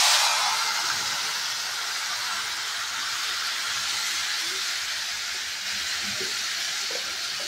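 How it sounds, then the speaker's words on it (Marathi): A tempering of garlic browned in hot oil with a pinch of turmeric crackles with a loud, close, continuous hiss that fades only slightly as it settles. "आता हे मी फोडणीला टाकत आहे"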